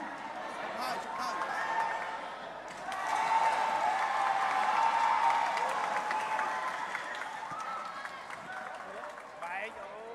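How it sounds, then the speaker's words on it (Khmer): A crowd claps and cheers in sustained applause that swells midway and then tapers, with voices mixed into the noise. "សូមសំលេងផ្ទះដៃ"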